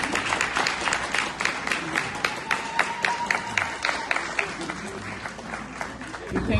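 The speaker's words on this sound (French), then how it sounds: "je voudrais qu'on applaudisse et qu'on reçoive Adiza Bari." Applause from an audience at a women leaders' summit in the Sahel welcomes a speaker to the stage: dense, steady clapping for several seconds with some voices in the crowd, dropping at the very end.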